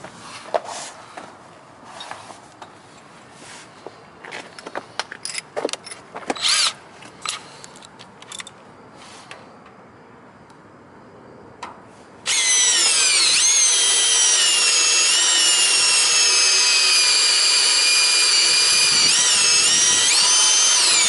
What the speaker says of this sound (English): Sharp drill bit.